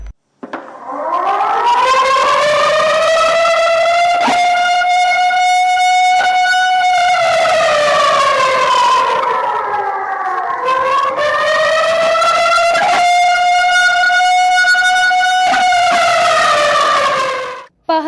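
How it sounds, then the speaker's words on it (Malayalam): A civil defense siren wails loudly outdoors during a mock drill in Nilambur, Kerala, in two long rising and falling cycles, steady and piercing, with no talking. "നിലമ്പൂരിലും സൈറൺ മുഴങ്ങി"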